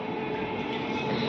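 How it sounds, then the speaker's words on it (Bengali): A train rolling past close by, a dense, loud rumble with steady mechanical rattle and tonal ringing, heard on its own for a brief stretch. "ট্রেন আসছে আর উঠে দাঁড়িয়ে পড়ছে ট্রেন দেখার জন্য"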